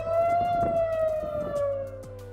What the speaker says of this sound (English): Rocket warning sirens were heard across the city as tensions in the region rise.